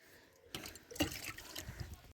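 Water is poured over potato plants in an old basket on a terrace garden: a soft splash begins, then steady trickling and dribbling into the soil, close and fairly quiet.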